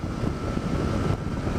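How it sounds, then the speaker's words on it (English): Aprilia RSV Tuono Gen 1 motorcycle engine pulling hard under open throttle, a steady loud roar heavily mixed with rushing wind noise throughout. "The front just goes so light when you open the throttle like that."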